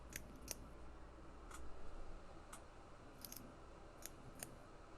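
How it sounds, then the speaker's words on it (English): Sharp, quiet clicks from an MXC fidget spinner being played with, a handful of isolated ticks scattered irregularly over a low steady background hum, close and faint. "I'm playing with one of the MXC fidget spinners right now, if you hear that clicking in the background."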